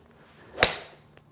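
A golf swing with a 7-iron, the club cutting the air in a single quick whoosh that peaks sharply and fades, alone in a quiet outdoor setting.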